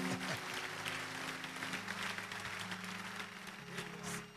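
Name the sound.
church congregation clapping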